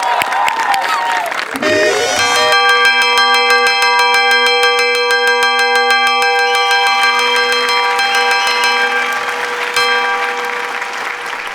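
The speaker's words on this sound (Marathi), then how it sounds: "काय घंटा वाजाडतो रे?" A bell rings repeatedly and loudly at an awards-ceremony comedy sketch on stage, its bright ringing tones sustained over continuous crowd applause throughout.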